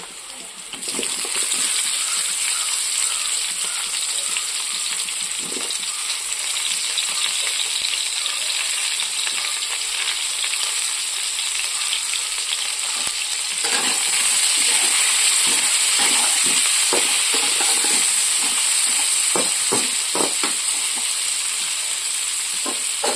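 Onions and potatoes, seasoned with salt and turmeric, fry in a pan with a loud, continuous sizzle. Spatula scrapes and knocks grow more frequent later on.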